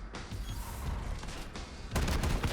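Gunfire in a video game, a legendary Compiler cannon shot amid a busy firefight, with dense bursts of shots and a loud heavy blast near the end, no talk.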